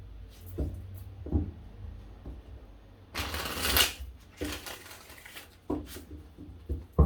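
Tarot cards riffle and slap together in several shuffles, with soft pauses between bursts and one longer, louder riffle in the middle; nobody speaks.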